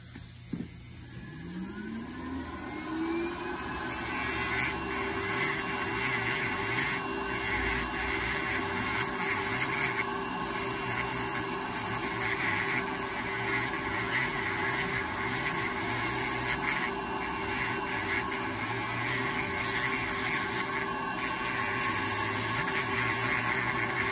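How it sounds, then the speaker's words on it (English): An electric grinder works down a thick toenail. A motor spins up, then a steady, faint, high whine drones on without a break. "I'm going to grind it down nicely."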